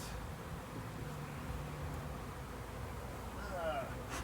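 Italian honey bees buzz in the air around a backyard hive during a package installation, a steady, fairly quiet drone filling the space with a brief nearer buzz passing toward the end.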